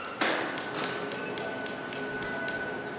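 A charity bell ringer's handbell rings at Christmastime in a steady, quick rhythm, about ten bright strikes in three seconds, clear and fairly close over a light background hum.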